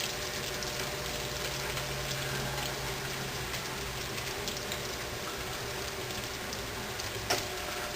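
Bacon sizzling in a frying pan, a steady, fine crackling hiss with a faint low hum underneath, constant and close with no talk.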